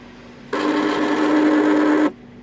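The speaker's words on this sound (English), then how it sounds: "the source of this noise that you have is that motor right there." An Audi A8 sunroof motor whirs steadily for about one and a half seconds, starting and stopping abruptly with a constant mid-pitched hum, close and clear over a quiet background.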